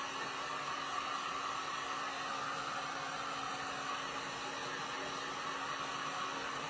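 A heat gun blowing steadily on stencil paint on wall art, a continuous close whooshing airflow hum with no pauses.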